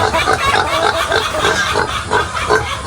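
A dense chorus of pigs raised for roasting grunting and squealing continuously on a farm, loud and close, with no pauses.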